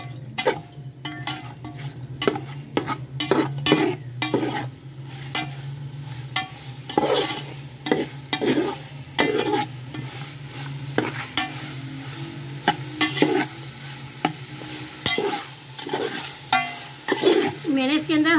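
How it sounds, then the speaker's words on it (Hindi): Chicken pieces fry in half a cup of hot oil for biryani, a steady sizzle under repeated sharp scrapes and clanks of a spoon stirring against the pot, close and alone. "इसमें लहर मारी चिकन शामिल करेंगे और इसे अच्छे से भूनेंगे"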